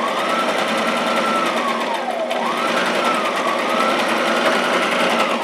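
A sewing machine stitching dress fabric hums loudly and steadily at close range, with a brief dip in pitch midway as it slows and speeds back up.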